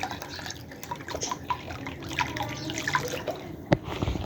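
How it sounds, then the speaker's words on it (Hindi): Fresh cold water poured out for pets in a rural home, heard as soft intermittent drips and trickles over steady background noise, with one sharper splash or clink near the end. "तुम्हारे लिए ठंडा फ्रेश पानी लेके आया हूँ"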